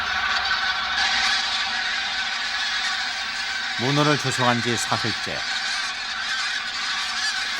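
Wild geese in a flooded winter rice paddy honk in a short burst of several overlapping calls midway through, heard under a narrator's voice over steady outdoor background noise.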